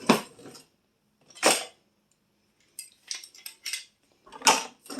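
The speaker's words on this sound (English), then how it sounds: "Just a few utensils to put away." Metal kitchen utensils clink and clatter as they are put away in a home kitchen drawer, in three or four close, loud bursts separated by brief pauses, with no talking.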